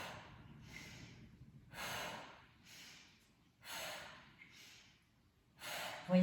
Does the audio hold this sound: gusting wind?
no